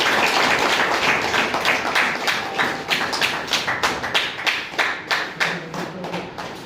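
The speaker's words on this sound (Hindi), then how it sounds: "जोरदार तालियां होनी चाहिए" An audience at a seminar bursting into applause, a dense, loud clatter of many hands that thins into slower, distinct claps as it fades over several seconds.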